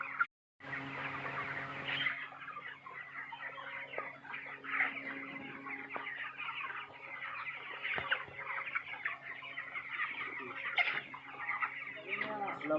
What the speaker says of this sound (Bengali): এই দেখেন আমি পোল্ট্রি ফার্ম। আমার মুরগির বয়স হলো 27 দিন।